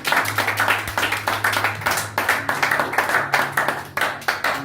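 A church congregation applauds during a Pentecost service, with loud, steady, rhythmic clapping that fills the room for several seconds.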